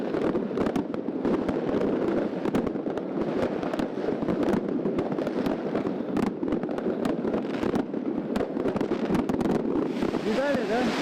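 New Year's night fireworks burst outdoors in Yakutsk, with rapid, dense crackling and booming that keeps going without a break. Wind buffets the microphone, and someone talks excitedly over the noise.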